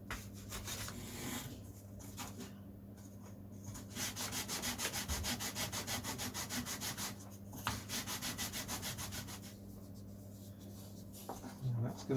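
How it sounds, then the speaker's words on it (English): A small wooden block for a model biplane is hand-sanded with rhythmic back-and-forth rasping strokes, close and moderately loud, in several runs with brief pauses, over a low steady hum. "I'm going to give it a little sand in a minute."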